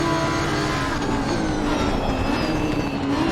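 A race car engine held on throttle in the racing sim Assetto Corsa Competizione at Valencia, a loud, steady, high-pitched drone with a slowly rising tone, heard alone without talk.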